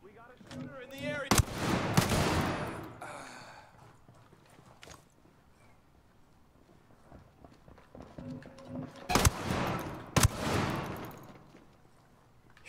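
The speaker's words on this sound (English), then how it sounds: "I didn't think about this shotgun being so loud." Loud, close shotgun blasts from Ghost Recon Breakpoint gameplay, two sharp reports with a gap between them, each with a long booming tail, over a quiet game background.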